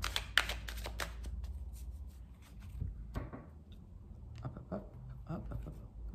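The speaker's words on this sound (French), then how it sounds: "On va battre les cartes un peu plus." A deck of cards riffled and shuffled several times in quick bursts during a tarot-style reading, crisp papery flutters close by with a low background hum.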